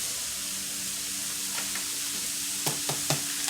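Egg roll filling sizzles steadily in a pan over medium-high heat, a constant frying hiss with a few sharp scrapes and stirring clacks near the end.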